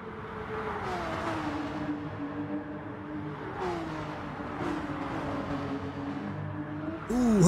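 Race cars in Gran Turismo Sport, an online league race, accelerating and shifting with rising and falling engine whine, heard at moderate level over a steady background drone, with a louder car note near the end.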